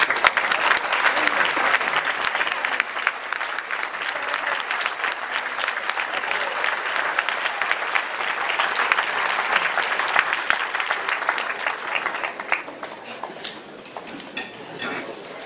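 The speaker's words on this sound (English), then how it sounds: "we'd like to give you a round of applause" A banquet audience applauds parents who have stood up, a dense, steady wash of many hands clapping that carries on for about fifteen seconds before thinning slightly near the end.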